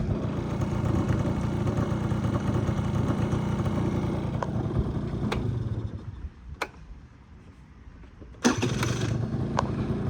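Engine of a Japanese Honda Topic 49cc two-stroke scooter running close by, a steady low buzzing idle with scattered sharp ticks, briefly dropping quieter before picking back up loudly.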